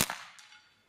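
A Kral Puncher Mortal PCP air rifle fires a single sharp, close, loud shot that cracks and then fades quickly into quiet.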